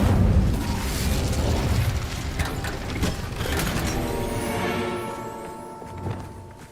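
A fiery Incendio spell cast in the video game Hogwarts Legacy, a loud whooshing burst followed by crackling, rattling mechanical-sounding tones that slowly fade.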